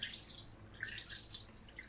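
Dirty rinse water drains from soaked idli rice in a kitchen, a faint, sparse dripping and trickling with no one talking.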